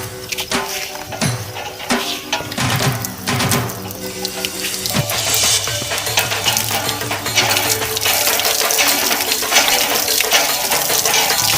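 Water splashes and gurgles steadily into a container, loud and close, with clinks and rattling at the start that give way to a continuous rushing pour.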